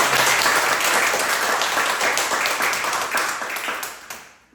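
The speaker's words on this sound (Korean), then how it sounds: "박수 한번 쳐줘요." A congregation applauds at an evening revival service in a Korean church, sustained and dense clapping from many people in a large hall that slowly fades toward the end.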